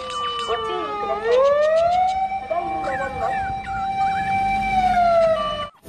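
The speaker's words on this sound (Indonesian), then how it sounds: "mobil pemadam kebakaran lagi." A toy fire engine's electronic siren rises and holds a steady wailing tone near the microphone, while someone speaks briefly over its opening.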